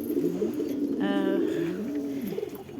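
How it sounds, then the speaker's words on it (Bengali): Pigeons coo softly and repeatedly in a loft, a low throaty burbling close by, with one brighter call rising briefly over the steady murmur. "এখানে অনেকগুলো কবুতর আছে"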